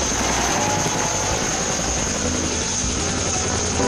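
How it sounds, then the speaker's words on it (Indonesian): A rescue helicopter drones continuously overhead, its rotor and engine noise filling the air with a steady, loud wash and no voices. "Ada helikopter teman-teman."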